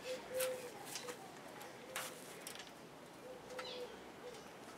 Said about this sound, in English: making friends with this pretty parrot